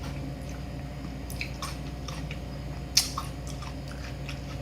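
Close chewing of crunchy bean sprouts in sago soup topped with fried shallots, soft wet crunches repeating over a steady background hum, one sharper bite standing out.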